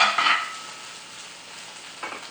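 Beef stir-fry with green beans sizzles in oil inside a covered pan, a soft steady hiss with brief louder crackling bursts at the start and near the end, heard alone.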